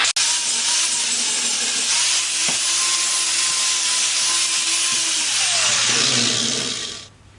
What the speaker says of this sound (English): this is where that sanding ceramic disc comes in. I like to clean up all my steel